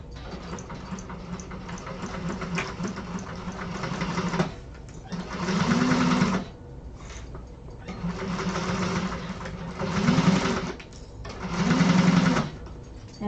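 A sewing machine top stitches a bag in several close, loud runs of rapid steady needle chatter, its motor humming between stitching bursts separated by short pauses.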